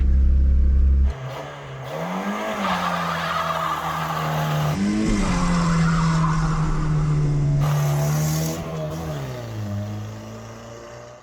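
A Ford Festiva engine runs after its spark plugs were cleaned, idling steadily with a few rising revs that swell and settle, loud and close, with no talking.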